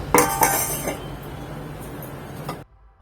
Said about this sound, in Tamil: கொஞ்சம் மூடி போட்டுடலாம்.